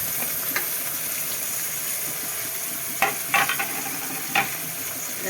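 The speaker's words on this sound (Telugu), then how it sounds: "ఇప్పుడు మటన్ వేస్తున్నాం. కేజీ మటన్ వేస్తున్నాం." About a kilo of mutton fries with onions and green chillies in a pot, a steady sizzling hiss broken by a few louder stirring scrapes toward the end.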